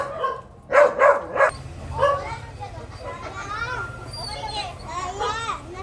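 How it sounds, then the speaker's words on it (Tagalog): A household dog in the Philippines barks in a few quick sharp bursts near the start, followed by children's voices and chatter that continue over a low steady hum. "Yung aso namin tahol na ito."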